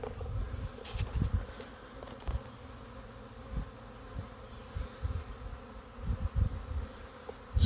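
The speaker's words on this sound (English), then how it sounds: "I got them buzzing all around me" A swarm of honeybees buzzes around a pine tree outdoors, a steady dense hum with individual bees zipping close past in louder swells, and no talk.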